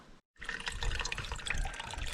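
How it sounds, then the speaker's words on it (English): Water being filtered into a plastic Coke bottle at a wild camp on Dartmoor, a steady close pouring and trickling flow that runs continuously after a brief silent gap at the start. "Filtering some more water."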